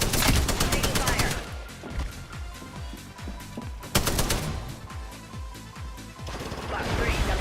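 Rapid automatic gunfire in an online squad shooter, loud and sustained bursts with short gaps, crackling through most of the stretch without talk.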